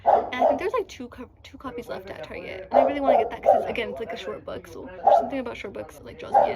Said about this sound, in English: Excuse the barking in the background, I'm so sorry.